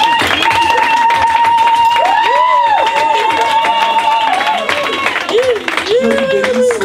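A church congregation applauds and cheers during a lively worship service, loud sustained clapping and crowd noise filling the room under a singing or shouting voice that carries a steady tone throughout.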